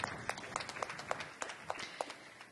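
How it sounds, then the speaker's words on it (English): Scattered clapping from a sparse audience at an education conference, distinct individual claps in an uneven rhythm, fairly quiet and somewhat distant. "Is that deserves a round of applause"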